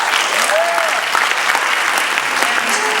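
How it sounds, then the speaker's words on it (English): Guests at a school fundraising night give a sustained round of applause, a loud, even roar of many hands clapping close by, with a faint voice or two rising briefly within it. "So please give them a little round of applause."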